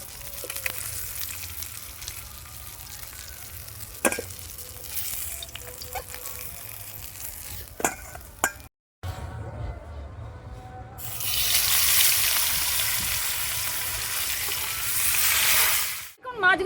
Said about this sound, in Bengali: বাকি মাছগুলো এইভাবে ভেজে নেব আমি